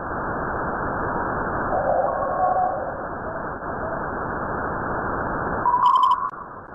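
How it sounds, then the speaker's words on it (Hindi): Recording presented as the eerie sound of the universe: a steady hiss of muffled noise with a faint hooting tone early on, then a brief brighter pinging burst near the end, and no voices. "चलिए अब हम आपको ब्रह्मांड की आवाज को सुनाते हैं,"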